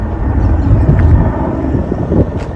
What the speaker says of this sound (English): I think that's the DC helicopter just flying